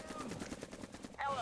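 Rapid bursts of gunfire from a weapon in a VR video game rattle off in a quick rhythm. The shots are fairly faint, with a sharper burst at the end.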